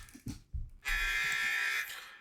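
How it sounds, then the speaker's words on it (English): A video game alarm blares as a steady, bright buzzing tone that holds for about a second after a few short thumps, loud and alone with no voices over it, then cuts off. "An alarm blares."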